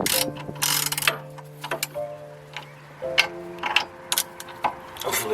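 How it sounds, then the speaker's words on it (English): A 3/8 ratchet with a 14mm deep socket working a sway bar end link bolt on a 2006 Acura MDX, giving repeated clicking pawl ratchets in short bursts with sharp metallic ticks, close and fairly quiet. "I have a 3/8 ratchet and a 14mm deep socket. I'm going to try and just break it free with that."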